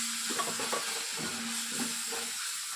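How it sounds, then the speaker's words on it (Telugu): Ginger garlic paste fries with golden onions in a pan for prawn masala curry, giving a steady, faint sizzle and hiss throughout with soft stirring scrapes. "అల్లం పేస్ట్ని కొద్దిగా పచ్చివాసన వెళ్ళేంత వరకు వేయించాలండి"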